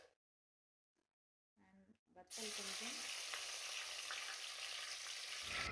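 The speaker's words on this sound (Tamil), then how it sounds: "இதில் வந்து கொஞ்சமாக கடுகு ஆட் பண்ணிக்கலாம் அண்ட் ஒரு வத்தலை கிள்ளி போட்டுக்கலாம்." Mustard seeds and a broken dried chili dropped into hot oil for a South Indian rice dish, starting after a quiet moment and a few clinks, then a loud, continuous sizzle and crackle that carries on to the end.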